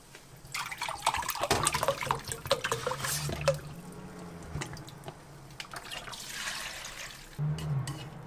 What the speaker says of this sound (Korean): 자, 물은 콩나물 잠길 정도로 부어주세요.